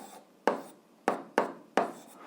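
An equation is written out in four quick, crisp scratchy strokes, evenly spaced and close up, with quiet pauses between them.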